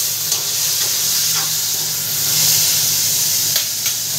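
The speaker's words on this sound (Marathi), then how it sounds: "फ्लावर पहिले तेलामध्ये फ्राय करून घेते." Cauliflower frying in oil gives off a loud, steady hiss and sizzle, close by and continuous, with a few faint clicks over the top.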